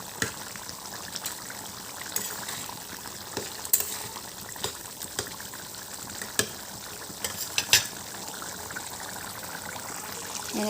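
A pot of pigeon meat and potato curry, thickened with rice flour, bubbles and sizzles softly in a steady simmer, with a few sharp clicks of a utensil and no talking.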